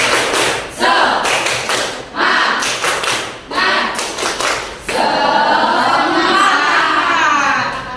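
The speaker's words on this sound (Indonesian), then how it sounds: "Kita tepuk semangat dulu ya. Tepuk semangat." A classroom of students claps out a rhythmic 'tepuk semangat' chant, sharp bursts of clapping in patterned groups followed by a sustained stretch of loud, busy clapping and voices.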